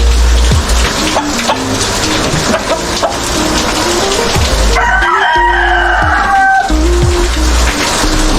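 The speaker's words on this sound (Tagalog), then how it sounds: "Mayroon po akong alaga na walong roster" Eight fighting cock roosters kept in a bamboo cage during rainy weather crow loudly and repeatedly at close range, with clucking and a steady wash of rain or water noise beneath.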